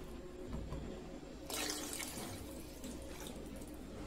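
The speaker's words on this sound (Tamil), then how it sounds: "2 கப் தண்ணி நம்ம ஊற்றணும்." Two cups of water poured into a pot for mushroom biryani, a soft, steady splashing pour with a louder burst midway and a small clink at the end.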